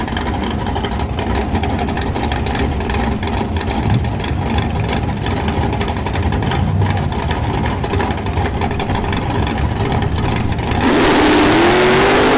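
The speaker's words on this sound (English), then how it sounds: "Left lane Bruce here is spun out and he let off" Drag racing cars roaring at full throttle on a bracket series strip, a loud continuous engine blare that rises even louder near the end.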